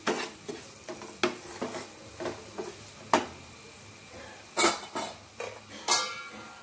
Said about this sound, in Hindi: पोटैटोज जो हमने फ्राई करके रखे हुए थे वो अब इसे फिर से स्टर करना है